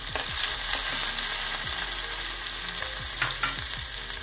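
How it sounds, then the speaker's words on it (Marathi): Ginger, green chili and asafoetida frying in hot oil: a steady, loud sizzle with a few sharper crackles and spits, and no voices. "तेल तापलं आहे, थोडं अद्रक मिरची टाकायची आणि थोडा हिंग टाकून घ्यायचा"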